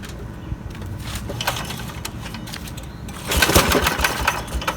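A Briggs small engine is cranked by hand with its recoil starter, which has a fault: a low rough mechanical rattle runs throughout, swelling louder and busier in the final second or so, with no talk.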